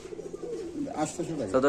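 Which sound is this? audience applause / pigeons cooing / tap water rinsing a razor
pigeons cooing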